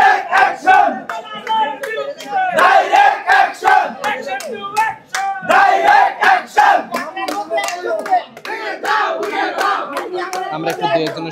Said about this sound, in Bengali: তারা বিভিন্ন ধরনের স্লোগান দিচ্ছে